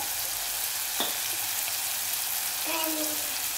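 Chopped onion and tomato softening in a hot pan for a gravy, a steady, even sizzle running throughout, with a brief utensil clink and faint, thin tones near the end.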